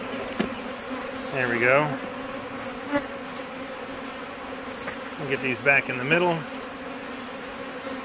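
Honeybees from an overflowing hive, being shaken out during a split, hum in a steady, dense drone throughout, with a person talking briefly over the buzzing.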